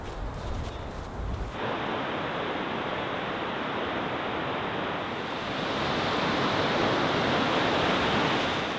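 Steady broadband roar of waves on a beach after a wet spell, loud and continuous with no clear breaks, likely blended with wind.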